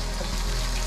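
Hot dogs frying in oil give a continuous loud sizzling hiss, close and steady with no talk.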